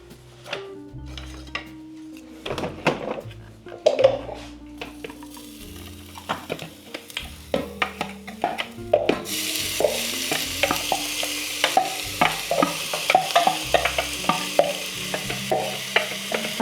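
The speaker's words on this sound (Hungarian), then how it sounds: "Kezdem azzal, hogy a hagymát egy kevés olajon, zellerszárat megfonyasztom." Onion and celery stalks softening in a little oil in a pan, with a steady sizzle under repeated stirring scrapes and utensil knocks against the pan, the frying hiss growing brighter and louder partway through.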